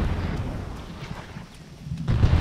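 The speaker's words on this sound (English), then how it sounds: "They're shooting mortars." Mortar shells exploding in the military video game ArmA 3, heavy low rumbling booms from a distance, with a fresh deep blast swelling near the end.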